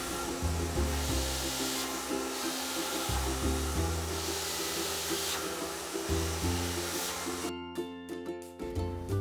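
A hair dryer blows continuously with a loud rushing hum, shifting pitch as it moves, then cuts out briefly near the end.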